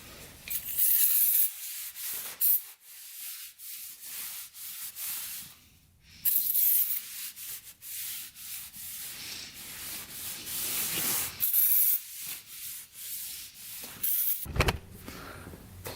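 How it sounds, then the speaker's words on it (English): An aerosol can of brake cleaner sprays onto parts of a vintage dirt bike in repeated long, loud hissing bursts with brief gaps between them, up close and with no talking. "A little brake cleaner to clean it off here."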